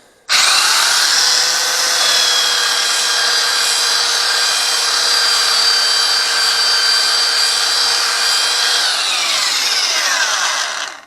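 A new cordless drill-driver runs on its first test, a steady high-pitched motor whine sustained for about ten seconds at close range, then spinning down at the end; no talking.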